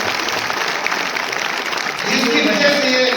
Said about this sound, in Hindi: मैं चाहता हूं एक बार उनके सम्मान में जोरदार तालियां